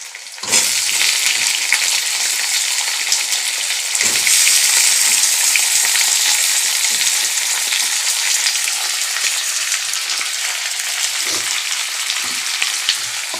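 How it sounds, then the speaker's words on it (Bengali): Potatoes and tomatoes sizzle together in a hot frying pan, giving a loud, dense, steady crackle that runs without a break, with a few faint clinks under the frying. "এবার আলুটা দিয়ে দেবো আলু আর টমেটো দুটো একসাথে দিয়ে দেবো"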